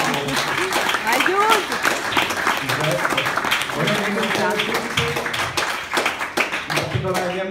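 Audience applause at an event, a dense sustained clapping from a crowd close by, with voices and cheers mixed in over the clapping.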